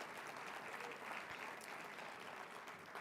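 An audience at a gubernatorial candidate forum claps for the moderator, a quiet, even wash of applause heard from a distance with no voices over it.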